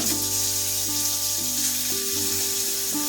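Papaya pieces and bottle gourd stems frying over medium flame in a pan, a dense, even sizzle running throughout with a steady background hum, close and constant without voices.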